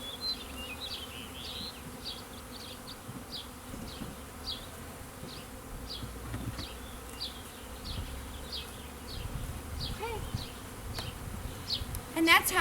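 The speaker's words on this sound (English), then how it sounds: "Notice how they're all buzzing around." Honey bees swarm around an opened hive, a constant low hum with many individual bees whining past the ears in brief rising passes. It is steady and fairly soft, with faint handling noise underneath.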